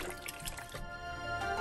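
Chicken broth poured into a cooking pot for wonton soup, a wet trickling, splashing pour that runs steadily, then gives way to a quieter liquid sound close by.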